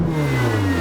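A 2016 Ferrari 488 GTB engine revving through a titanium exhaust, a full, sharp, steady tone at around mid revs, loud and close, no talking.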